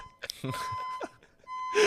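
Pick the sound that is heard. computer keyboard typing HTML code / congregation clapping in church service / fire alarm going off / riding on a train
fire alarm going off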